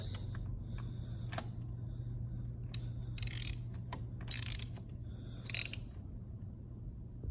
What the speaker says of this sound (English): Now I'm going to take my ratchet